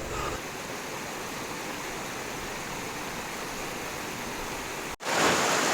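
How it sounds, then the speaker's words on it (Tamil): Cold river water rushes steadily at Koolangal River, a dense, even wash of flowing water close by, briefly interrupted near the end before resuming louder. "தண்ணியோட சவுண்ட் வந்து அவ்வளோ நல்லா இருந்தது"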